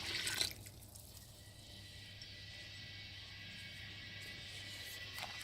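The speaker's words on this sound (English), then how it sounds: "In goes the juice." Juice pours into a sanitized home-brewing fermenter, a steady hissing stream of liquid that begins with a splashy burst and then runs on evenly.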